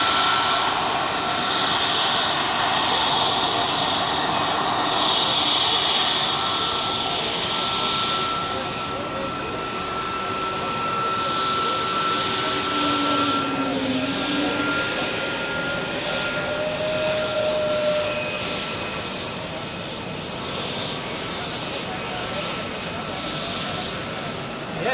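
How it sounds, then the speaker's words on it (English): An Airbus A321neo jet taxis and turns on the apron at Zurich Airport, its engines giving a steady, loud whine and roar that rises and falls gently as it swings around, close by. "now let's see this beautiful A321neo turning around right in front of us"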